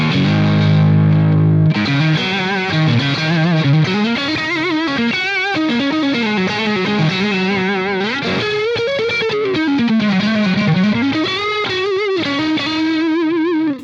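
A PRS Silver Sky SE electric guitar played on its neck pickup through a distorted effects chain, giving loud, continuous bluesy lead lines with bending notes after an opening sustained chord, and no talk.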